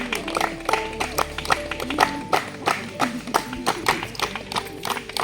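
Audience applause at a medical camp gathering in a remote Naxal-affected area, a crowd clapping in quick, uneven bursts, fairly close and steady throughout with faint voices underneath.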